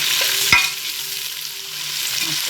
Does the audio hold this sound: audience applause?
no